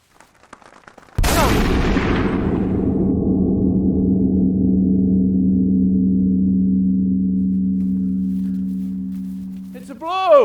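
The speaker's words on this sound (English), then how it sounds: "That was a hell of a shot, son." A shotgun is fired while hunting birds: one sudden, loud, close blast, then a long ringing decay that fades over several seconds.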